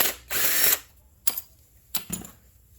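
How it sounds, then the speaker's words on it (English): A ratchet working loose 13 mm bolts on the all-wheel-drive unit of a 2017-2020 Nissan Rogue 2.5L, one long rapid zipping burst followed by a few short clicking bursts, close and alone. "we got these 13s running around the all-wheel drive piece here. I'm going to start zipping these out"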